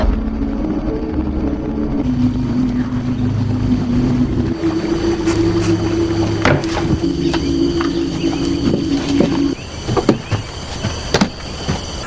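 A motorboat on a river in Kalimantan drones steadily at close range, its pitch holding then dropping away near the end, with scattered knocks and clatter; no voices.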